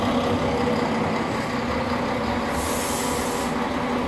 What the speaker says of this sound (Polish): Jest i pociąg.